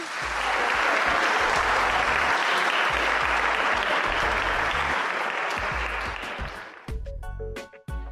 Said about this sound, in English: How about one more big round of applause for Brooke Warner and Susan Orlean?